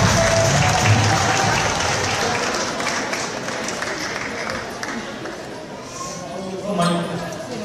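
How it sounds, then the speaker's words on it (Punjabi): A crowd at the Miss and Mrs Punjaban Winnipeg 2017 pageant applauds a child's performance with dense, steady clapping that fills the whole stretch and eases off only slightly toward the end. "ਜ਼ੋਰ ਦਾਰ ਤਾੜੀਆਂ ਬੱਚੇ ਦੇ ਇਸ ਪਰਫਾਰਮੈਂਸ ਦੇ ਲਈ"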